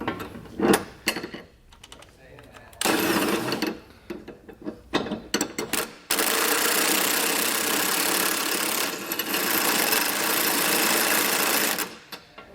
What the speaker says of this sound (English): with our impact, we'll go ahead and just tighten on this other side